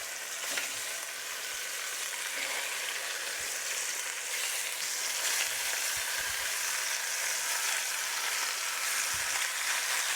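A pot roast searing on high heat in oil in a barely big enough pot, giving a loud, steady, dense sizzle that holds for the whole stretch with a few faint low bumps beneath.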